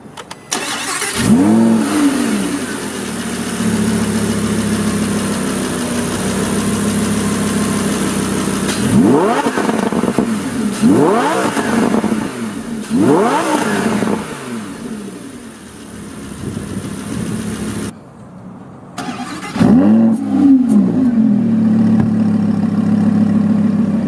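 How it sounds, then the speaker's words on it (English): A 2015 Lamborghini Huracán LP610-4 with its 5.2-litre V10 in Corsa mode starts up, then blips its throttle in several sharp rising revs that fall back to a loud, steady idle, close and without talk. "And we'll listen to it here with the mode selector set to Corsa."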